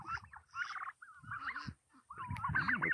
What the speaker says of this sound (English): We're trying to get a gobble out there.